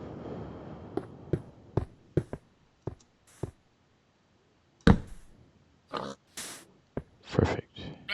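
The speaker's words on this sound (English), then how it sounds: "There's a pig." A pig in the Minecraft video game oinking, short grunting calls repeated with gaps, mixed with sharp game clicks and brief bursts of other in-game sounds, fairly close and clear.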